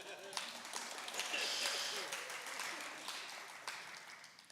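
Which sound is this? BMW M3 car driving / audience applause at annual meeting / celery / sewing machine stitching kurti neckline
audience applause at annual meeting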